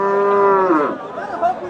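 Cattle at a busy livestock market ahead of Eid: a single loud, close moo that rises and then falls away, with faint crowd noise behind it.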